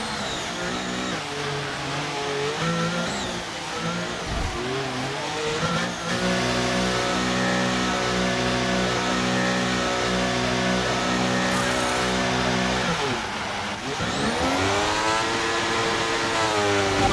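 A McLaren MCL38 Formula 1 car in a racing video game, entering the pit lane at Monaco in very wet conditions. The engine holds a steady, buzzing pit-limiter drone, then revs up sharply and loudly as it pulls away.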